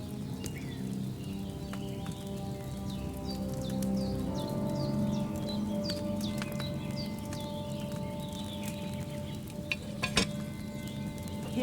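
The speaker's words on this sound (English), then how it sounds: "Hear that bubbling? It's boiling." Wine bubbling and boiling in a cauldron over a flame, with a continuous soft simmering hiss dotted with small pops and bursting bubbles, one louder crackle near the end.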